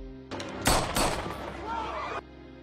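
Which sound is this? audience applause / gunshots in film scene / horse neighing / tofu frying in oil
gunshots in film scene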